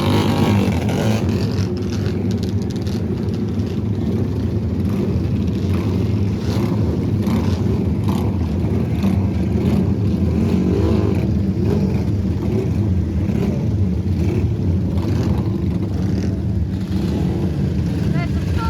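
Thirty classic race motorcycles sit on the starting grid at Castletown, Isle of Man, for a Pre-TT Classic race. Their engines drone in a steady, dense roar that stays loud and constant throughout.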